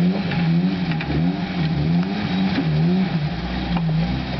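Off-road Toyota truck engine revving steadily with a rising and falling low drone, close and loud, and no voices heard over it.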